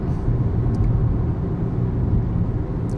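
A 160 hp Alfa Romeo Giulia 2.2 runs with a steady, low engine rumble during a pedal test, heard close from inside, with no talking.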